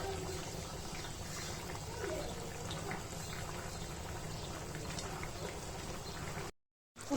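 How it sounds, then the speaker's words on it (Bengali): Water coming to a boil in a pot of small-fish curry (chochchori), a steady soft bubbling simmer at low level, ending abruptly in a brief gap. "পানিটা বলক চলে আসছে এখন কমিয়ে দিব"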